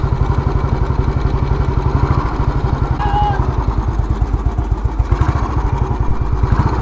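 Royal Enfield cast iron motorcycle engine running at a steady idle, its even, rapid thumping pulses loud and close, continuing alone for several seconds.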